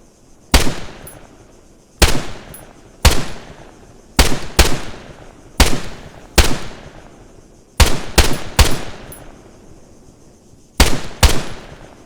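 Gunfire in the ArmA 3 video game: about a dozen loud, sharp shots fired singly and in quick pairs at irregular intervals, each ending in a short echoing tail, with no talking.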